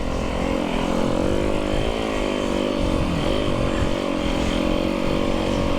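A group of snow bikes and snowmobile sleds rides past close by, their engines a loud, steady, overlapping drone that rises and falls in pitch as they go.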